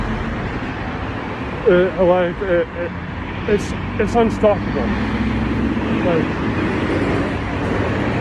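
Road traffic noise as a continuous low rumble of passing vehicles beneath a person talking nearby, with the traffic swelling a little louder toward the end.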